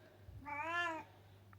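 A pet cat gives a single clear, drawn-out meow close by, rising and falling over a low steady hum.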